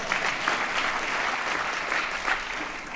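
An audience at a State of the City address applauds steadily for a few seconds, a broad even wash of clapping from a crowd in a hall.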